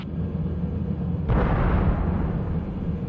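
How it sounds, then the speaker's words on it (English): An explosion in the Shadowrun video game lands as a sudden loud blast midway through, a broad rumbling burst that lingers and slowly decays over a low background hum. "That explosion would have killed a troll on PCP, and you were fine."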